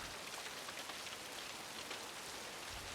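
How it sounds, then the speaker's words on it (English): Steady rain pours down outside, a dense even hiss of drops on surfaces that continues without pause and with no voices. "as the rain keeps on falling"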